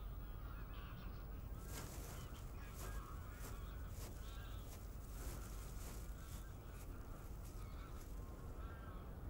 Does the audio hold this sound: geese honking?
yes